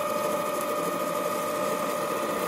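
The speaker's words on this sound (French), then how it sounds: "on contre-perce cette pièce d'abord" A drill runs steadily through a metal part clamped in a vise while counter-drilling holes for a wheat brush, a continuous close whirring grind that holds constant for the whole stretch with no talk.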